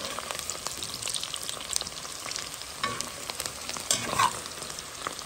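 Onions softening in a pot, frying with a soft, continuous sizzle and occasional light pops and stirring scrapes, close and fairly quiet with no talking.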